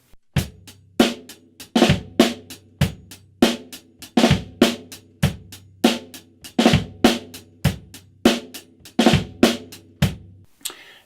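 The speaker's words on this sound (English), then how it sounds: "we'll put the fat flam on the E of 3." Drum kit groove with a fat flam on the E of beat 3 followed by a bass drum hit, no hi-hat on the bass drum, crisp repeating pattern played alone and close.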